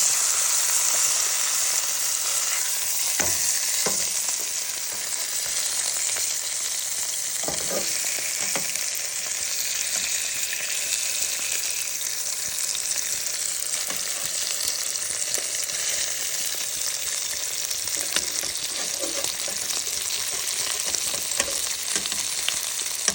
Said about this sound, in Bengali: যে মাছটা রান্না করার জন্য ঠিক এভাবে হালকা করে ভেজে নেব।